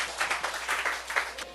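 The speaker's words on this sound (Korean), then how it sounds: "우리 하나님께 박수 올려드려요" A church congregation claps in praise during a Sunday worship service, a short burst of scattered hand claps with uneven pulses, fairly faint and fading toward the end.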